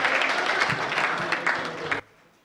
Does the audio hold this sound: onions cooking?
no